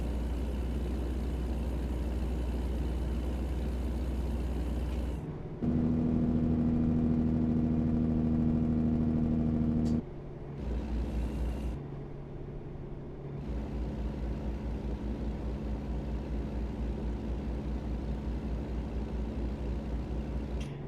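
A truck engine driving in American Truck Simulator, a steady low drone that shifts pitch and load across several gear changes, with brief drops between stretches, continuous and close.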